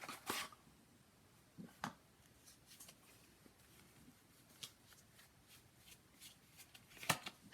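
Oracle cards are shuffled in soft, quiet bursts of riffling and flicking, close by and irregular, with brief pauses between.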